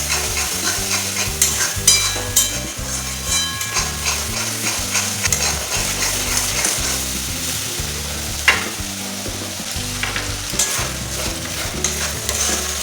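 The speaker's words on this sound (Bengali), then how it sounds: "এবার সব কিছু মশলা ভালোভাবে কষিয়ে নিচ্ছি।" Turmeric, cumin and Kashmiri chili powders sizzle in oil as a spoon stirs them continuously, with rhythmic scraping and clanks against the pan over a constant loud fry and a louder knock near the end.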